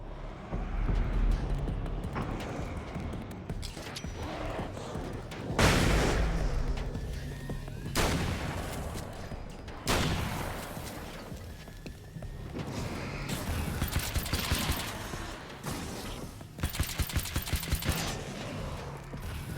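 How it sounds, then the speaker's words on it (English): Nail gun firing in Alan Wake's American Nightmare, a series of sharp loud bangs at irregular intervals, some in quick clusters, over dark ambient game noise. "The nail gun's pretty cool."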